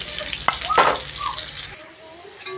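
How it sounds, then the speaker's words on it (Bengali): Chopped onion hits hot oil in a pan, giving a close, steady sizzle with a few sharp stirring clatters, and it quiets abruptly near the end. "পেঁয়াজ কুচি দিয়ে দিলাম"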